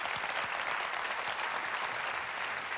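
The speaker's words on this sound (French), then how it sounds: "Sous le tonnerre d'applaudissements de la foule," A crowd at a magic show applauds loudly and steadily, dense clapping filling the whole stretch without pause or voices on top.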